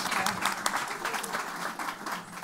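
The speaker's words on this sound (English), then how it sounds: "Please give a round of applause to all of these amazing chefs" A brief, fairly faint burst of crowd applause for the chefs, continuous scattered clapping from a room of people.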